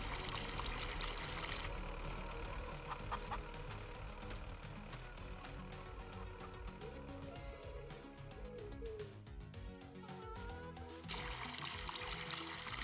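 Water pours steadily into a tank in the Farming Simulator 22 farming game, a continuous trickling rush layered over a low engine hum.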